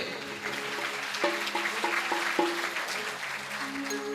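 An audience applauds at a religious ceremony with a steady, moderately loud patter of clapping hands. Faint voices and tones sound beneath it.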